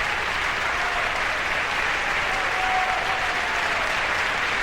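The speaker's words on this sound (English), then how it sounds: "Our principals and the young people of the chorus applauding the creators" Principals and young chorus members of a New York City Opera production of Lizzie Borden applaud on stage. The clapping is a dense, steady wash from many hands that holds evenly throughout.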